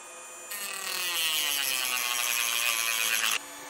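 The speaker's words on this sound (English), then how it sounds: "So I'm going to try to cut it open with my Dremel." A Dremel rotary tool cutting into a T-class fuse body; a close, loud, high whining grind that starts abruptly, runs steadily for about three seconds with a slight pitch drift, then cuts off sharply.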